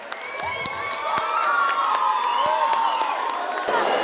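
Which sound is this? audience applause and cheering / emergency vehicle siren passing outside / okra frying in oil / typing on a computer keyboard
audience applause and cheering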